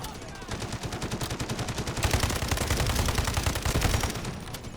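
Rapid automatic gunfire rattles in the Delta Force video game, dense and steady bursts that grow louder midway, with faint game voices mixed underneath.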